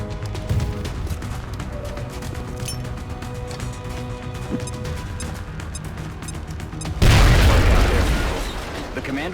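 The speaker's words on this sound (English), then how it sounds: "I'm just gonna throw a grenade at this guy." In the PC strategy game XCOM Enemy Within, a grenade goes off with a sudden loud boom that rolls and fades over a couple of seconds, following steady game ambience and a voice talking.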